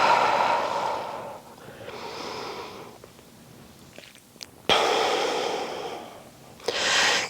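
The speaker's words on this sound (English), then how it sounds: "We should be breathing in through our nose, out through our mouth for that stretch." Audible breaths during a Pilates reformer stretch: air drawn in through the nose and pushed out through the mouth in several long, close, breathy cycles separated by quieter pauses.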